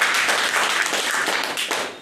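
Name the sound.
audience applause at farmers' meeting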